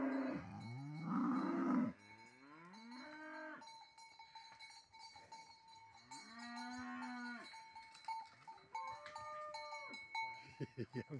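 Cattle being moved along, with several drawn-out moos at varying pitch over a steady clank of cow bells, and a person's voice calling out now and then.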